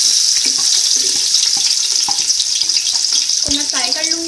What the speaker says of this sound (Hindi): सबसे पहले मैं घी में प्याज ऐड करूंगी और मैं इसको घी में बना रही हूँ